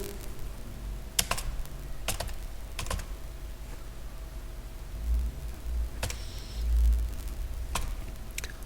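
Code is typed on a computer keyboard in bursts of close key clicks with a few louder strikes, heard alone without talk.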